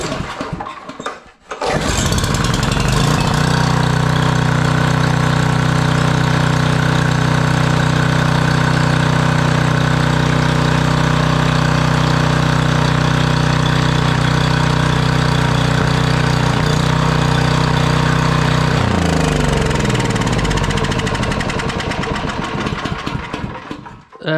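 A 5000 watt Generac generator engine starts after a brief crank and runs steadily at a loud, close, even drone for about twenty seconds, then winds down.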